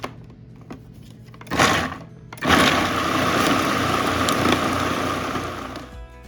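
Cauliflower and walnuts are chopped in a food processor: a few faint clicks, a brief surge, then the motor whirs at full speed in a loud, steady grinding drone that holds to the end, close and without talk.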